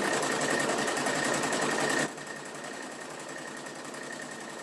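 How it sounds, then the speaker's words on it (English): A sewing machine runs steadily stitching fabric for a tote bag, a fast continuous mechanical whir that eases to a lower, quieter hum halfway through, close and alone. "When I sew these, guys, I always pull my fabric nice and taut."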